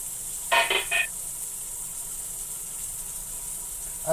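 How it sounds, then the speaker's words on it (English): Burger buns dipped in butter sizzle steadily in a hot pan, a soft continuous hiss that runs throughout, broken by a few brief clinks near the start. "so you're just like kind of pan frying them"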